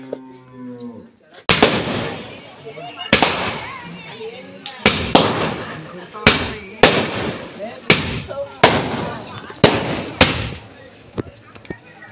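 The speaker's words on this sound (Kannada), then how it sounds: "ಇಲ್ಲೆಲ್ಲ ಹೆಂಗೆ ಪಟಾಕಿ ಹೊಡಿತಾ ಇದ್ದಾರೆ ನೋಡಿ" Firecrackers bursting at a village festival, a string of loud, sharp nearby bangs at irregular intervals, with people talking and a cow lowing in the background.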